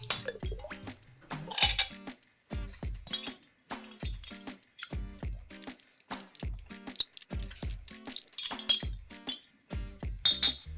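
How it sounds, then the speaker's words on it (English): A large ice cube stirred in an old-fashioned cocktail glass with rye whiskey, giving steady clinks and rattles against the glass, close and fairly loud, with no talking. "Next, we're going to add a large ice and stir."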